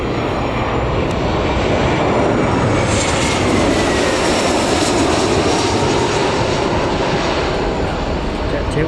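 A Jet2 jet airliner at Newcastle Airport roars loudly and steadily close by, its engine noise holding at a constant level throughout the clip.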